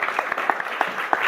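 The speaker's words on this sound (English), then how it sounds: "A warm applause for him too as well." An audience at a budget briefing gives a short burst of applause, a dense patter of many hands clapping at close to moderate distance.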